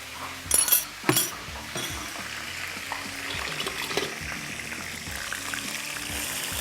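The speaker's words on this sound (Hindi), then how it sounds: "ये प्याज का पेस्ट, इसको सबसे पहले हमने ऑयल में शामिल किया।" Ground onion paste goes into hot oil for a curry and sizzles loudly at first, then settles into a steady frying hiss, with utensil clinks and stirring scrapes running through it.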